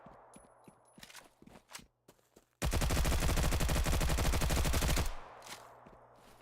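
Sustained burst of rapid automatic gunfire from a weapon in the Stalcraft video game, loud and continuous for about two and a half seconds, with scattered softer clicks and steps before and after.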